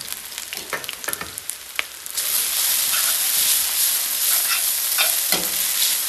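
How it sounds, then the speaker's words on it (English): Ramen noodles fry in a pan over medium heat: a few scrapes and stirs at first, then a loud, dense, steady sizzle and hiss that fills the rest, close and continuous. "Let it fry on each side at a medium heat."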